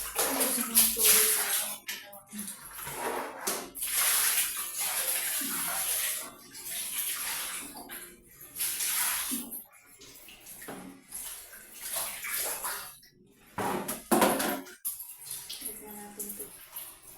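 Water runs and splashes in a bathroom while a bucket and bin are scrubbed, a steady close gush that stops briefly in places and resumes, with occasional scraping and handling noises.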